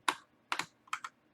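A computer keyboard tapped in a few quick clustered keystrokes, close and crisp, with short gaps between the groups.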